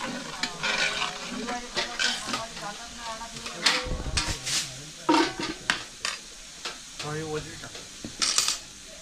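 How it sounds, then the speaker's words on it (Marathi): Large batch of village-style mutton frying in oil, with sizzling and clattering pot sounds under frequent talk from people nearby. "आता तेलामध्ये मटण फ्राय करून घेत आहेत"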